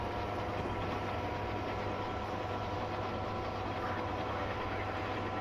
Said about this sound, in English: so we're going to go ahead and bring the train up to speed.